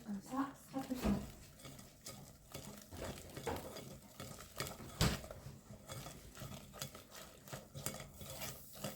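Zucchini cake batter with milk is stirred in a bowl, a run of irregular scraping and tapping utensil strokes with a couple of sharper knocks, under quiet background talk.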